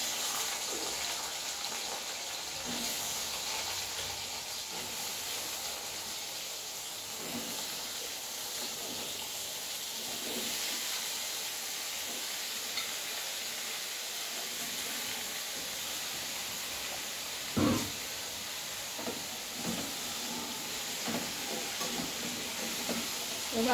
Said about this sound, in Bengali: এবার ওই তেলের মধ্যেই আমি এই সবজিগুলোকে ভাজার জন্য দিয়ে দিচ্ছি।